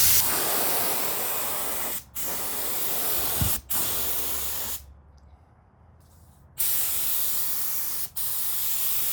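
A spray gun fed by an air compressor sprays paint onto thrifted home decor in a continuous broadband hiss, cut by a few brief trigger releases and one longer pause. It is close and steady, with no talk.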